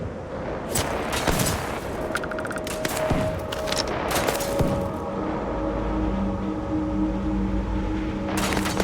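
Rapid bursts of gunfire in the video game Starfield, aimed at turrets during an assault, ring out in dense overlapping volleys with sharp reports over a steady droning background, continuing throughout.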